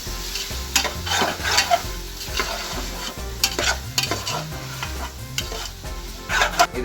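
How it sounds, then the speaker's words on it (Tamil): Onion, carrot and tomato saute in a hot pan, sizzling steadily while a utensil stirs and scrapes through them at irregular intervals. "வெங்காயம் கேரட்டு தக்காளி எல்லாத்தையும் ஒன்றா சேர்த்துங்க இந்த நேரத்தில் சேர்த்துட்டு வதக்கு வதக்குங்க"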